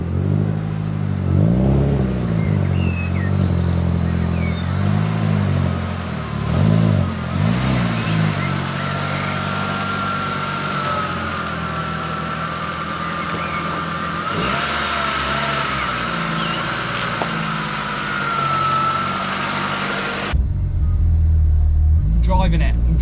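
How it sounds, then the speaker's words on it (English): A 1983 VW Golf GTI Mk1 fitted with a 1.8 20v turbo engine drives slowly across a yard. It starts with revving bursts that settle into a steady, rumbling engine note with a whine, and then the car cuts out abruptly. Someone talks over the engine. "I'm driving the Mark 1 for the first time."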